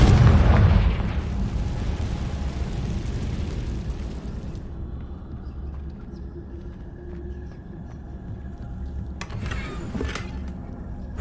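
A Confringo fire spell explodes in Hogwarts Legacy with a loud, close boom, followed by a long rumbling decay and a brief crackling burst near the end.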